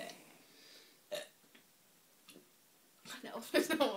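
Burps from people in a burping contest, a few short croaky belches scattered across the clip and then a louder cluster near the end, close to the mic over a quiet room.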